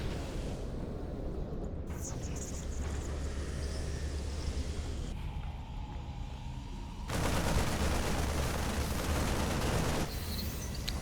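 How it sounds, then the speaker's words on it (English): Gunfire in a StarCraft 2 Terran versus Protoss match, a steady barrage of game shots and impacts mixed with bursts of battle noise, loud and continuous with a heavier surge near the end. "9 shots going off, 5 probe kills"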